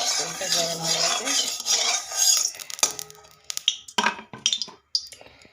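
Spoon stirring fried spice masala in a pan for home-cooked Bengali fish: a close, hissing scrape at first, then sharp clinks and scraping strokes in irregular bursts.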